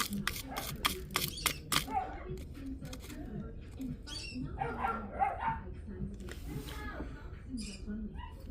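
Several dogs bark in short sharp bursts near the start while a new puppy mixes in with them, followed by scuffling, yips and mixed household noise.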